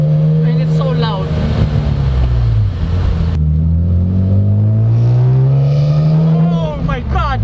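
A 1998 BMW M Roadster E36/7 straight-six revving loud and close, its pitch dipping and then rising again through a gear change, with a harsh rasp on top.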